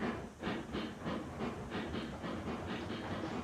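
Betsy, a small steam locomotive in a railroad video game, chuffs along in a quick steady rhythm of hissing exhaust beats over a rolling rumble, fairly close and alone without speech.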